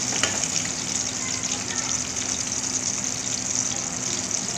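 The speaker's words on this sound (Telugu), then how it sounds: "ఇట్లా చెర్రీ టమాటాస్ వేసి కాసేపు బాగా మగ్గనివ్వాలి." Cherry tomatoes sizzling in a pan for homemade Chicken 65, a steady moderate hiss with crackling, close and continuous, no speech.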